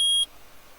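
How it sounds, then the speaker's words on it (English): A detector in Phoenix Wright: Ace Attorney gives a single short, high, pure electronic beep that cuts off sharply. No voices are heard. "Oh, it's beeping. It reacted."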